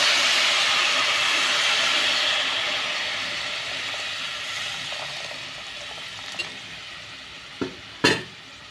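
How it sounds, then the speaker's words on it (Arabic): Warm water poured over rice being fried with onions raises a loud, steady hiss of sizzling and steam that slowly fades, with a couple of sharp clinks of a utensil near the end. "هنزل بالرز وابدا بعد ما قلبته ببعضه في البصل هنزل بميه دافيه"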